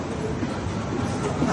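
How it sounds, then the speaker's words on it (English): Subway train in a Seoul station, South Korea, rumbling past with steady rail noise and clatter, loud and continuous throughout with no speech. "in the subway station, not actually on the subway itself, in Seoul, South Korea"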